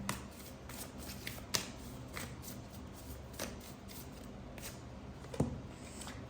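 Tarot cards are shuffled and drawn in a steady soft riffling, close and quiet, punctuated by two sharper snaps of a card; no one speaks.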